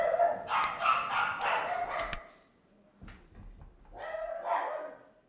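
Dogs in the game Life Is Strange 2 bark and yip in quick clusters, with a short pause and then another burst of barking, fairly faint and with no talk over it.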